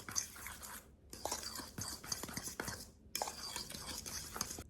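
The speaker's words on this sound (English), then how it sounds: "I'm gonna stir that around in with the cake mix." A spoon stirs oil into cake mix in a bowl, making close, soft scraping and clinking in three bursts separated by brief pauses, with no talking.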